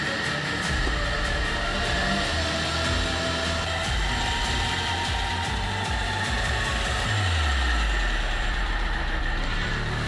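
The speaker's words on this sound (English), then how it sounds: "The sedan begins rolling under the power of its restored engine" A restored old Daewoo sedan engine runs close and loud, a steady idling hum with a brief drop in pitch partway through, and nobody speaks.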